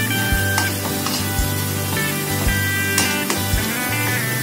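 Stink beans (pete) fry in hot oil in a home kitchen, giving a steady loud sizzle with a few sharp pops, and a low mechanical hum runs underneath.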